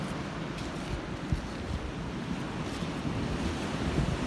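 Ocean waves wash onto a beach in a continuous rumbling surf, mixed with wind buffeting the microphone, fairly steady and moderately loud with no talking.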